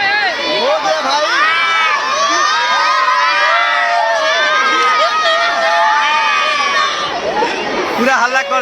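A dense crowd of schoolchildren shouts and cheers nonstop at a school mathematics fair in Siwan. The loud, close wall of overlapping high voices and whoops barely lets up.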